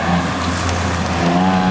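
Cadillac ATS-V with a 3.5 liter twin turbo V6, tuned to 520 hp, driving through canyons on wet roads, giving a loud, steady engine drone heard from close by inside the car.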